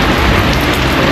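Heavy rain pours steadily over London, a dense, continuous hiss of drops drumming on surfaces that stays loud and unbroken throughout, with no voices.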